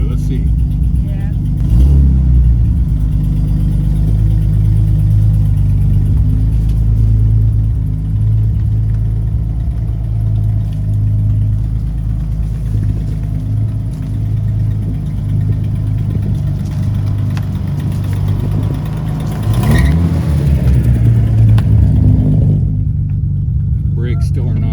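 A car engine runs steadily after being shifted into gear, with a low, continuous rumble and hum as it drives along, and people talk over it.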